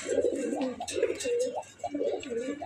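A Budapest racing pigeon coos softly and close by, a run of low, throaty rolling calls repeating in quick phrases, with no voice over it.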